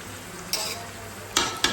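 Meat cooking slowly in a pot with garlic and fried potatoes gives a low, steady simmering sizzle, broken by a few brief scraping stirs from a utensil, close and quiet with no talk.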